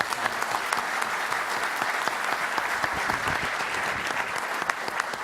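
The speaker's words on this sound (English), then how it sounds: "give a round of applause to Congressman" A crowd at a congressional Modeling & Simulation Caucus event claps steadily and fairly loudly, a dense, even wash of many hands with no voices rising above it.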